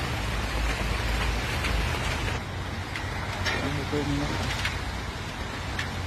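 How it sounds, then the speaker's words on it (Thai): Heavy rain pours steadily in a rural bamboo-grove setting, a dense continuous hiss with scattered drop patters throughout, close and constant, with no one talking. "ฝนยิ่งตกแ้งกว่าเก่าครับพี่น้อง"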